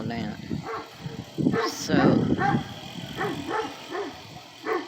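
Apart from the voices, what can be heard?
Great Pyrenees dog barking at the mailman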